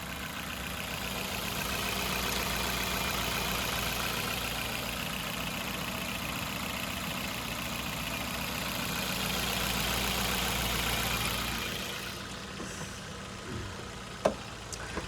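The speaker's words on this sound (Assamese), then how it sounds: "চাওক একদম নৰ্মেল চাউণ্ড কোনো ধৰণৰ ইঞ্জিনৰ ইছ্যু নাই" A 2018 Maruti Suzuki Ignis Zeta car idles with a smooth, steady engine drone held close for most of the stretch, then it drops away near the end, leaving a few light clicks and knocks.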